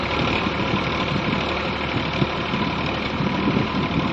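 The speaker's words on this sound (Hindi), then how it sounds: "ये हमारा मैसी है, मैसी 245 ट्रैक्टर" A Massey Ferguson 245 DI tractor engine works steadily under load, ploughing a field with a chisel plough, its loud, continuous rumble holding constant with a gritty, knocking texture throughout.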